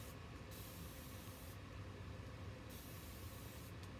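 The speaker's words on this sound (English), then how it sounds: "I need to spray my paint because it's really drying out fast." Quiet bursts of fine spray hissing from a spray bottle misting paint, a few short pumps separated by brief pauses, close and soft.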